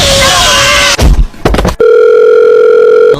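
A telephone tone sounds as a loud, steady electronic tone held for over a second, following a short burst of voices and noise.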